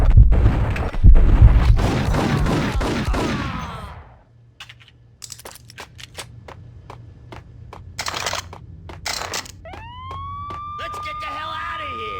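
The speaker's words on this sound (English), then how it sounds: "I'm allergic to sirens." In the Max Payne video game, dense bursts of noise and scattered sharp clicks give way to a police siren rising and wailing near the end, loud and close, with game voices around it.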